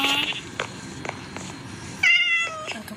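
In Minecraft, a game cat lets out a clear meow, then a few soft taps follow before a second meow, all fairly quiet over a low hiss of background noise.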